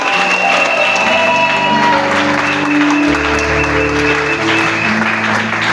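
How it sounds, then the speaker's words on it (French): A church congregation in Daloa breaks into loud, sustained clapping and cheering that fills the room without a break, with voices rising beneath it. "Acclamez le Seigneur fortement pour la vie."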